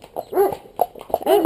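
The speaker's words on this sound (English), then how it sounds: "Oh, the dog is here," A big Doberman dog whimpers and yips in several short, close, whiny bursts with a faint growl between them, outdoors on a horse ride.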